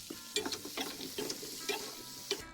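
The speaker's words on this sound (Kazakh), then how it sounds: "Дәміне қарай тұз бұрышын салып араластырамыз." Fried potatoes with salt and pepper are stirred in a kazan pot, giving soft repeated scraping strokes over a faint sizzle, close and steady with no talking.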